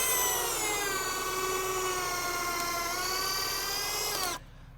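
Power driver driving a long screw into log cabin logs, a loud, steady high whine that falls slightly in pitch under load before stopping abruptly.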